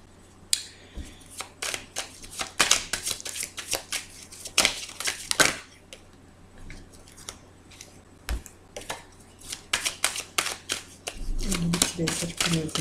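Tarot cards shuffled and riffled by hand in a rapid run of crisp, papery flicks and snaps, close and fairly loud, with short pauses between bursts.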